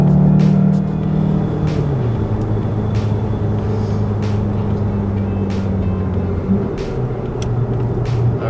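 Volkswagen Golf lapping Sepang Circuit, a steady loud engine drone from inside the car that drops in pitch as the driver brakes into a corner, then climbs again, with faint wind and road noise throughout.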